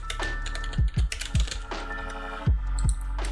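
Keys clatter on a computer keyboard in a short, uneven burst of about a dozen close, crisp taps with brief pauses, no voices.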